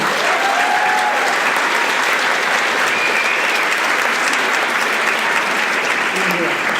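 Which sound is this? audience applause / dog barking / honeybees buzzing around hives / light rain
audience applause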